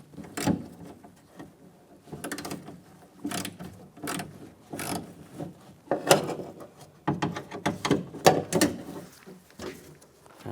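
A hand ratchet with a 10mm socket loosens a nut inside the door of a 2002-2008 Dodge Ram 1500, giving several bursts of rapid close clicking separated by short pauses.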